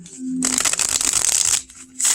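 Close, crisp riffling of tarot cards being shuffled in a steady burst, pausing briefly before another quick shuffle begins.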